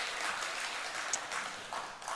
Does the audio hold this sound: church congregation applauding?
yes